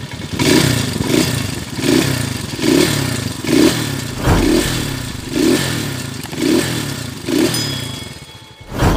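A Honda TMX125 motorcycle engine converted to 200cc, running loudly up close with a rough, pulsing idle and repeated blips of revving roughly every second, some metallic clatter, no talking.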